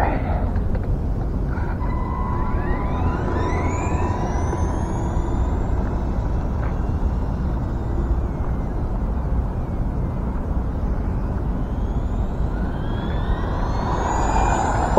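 A DT-02 RC car with a brushed motor on a 2s LiPo whines at full throttle, a rising pitch sweeping up as it speeds away, over steady wind and rumble outdoors.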